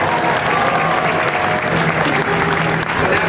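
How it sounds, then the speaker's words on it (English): Audience applause at a Transformers 30th anniversary celebration at Universal Studios, a dense, steady wash of clapping from a crowd that holds at full strength for the whole stretch, with no voices rising above it. "so a round of applause for those guys"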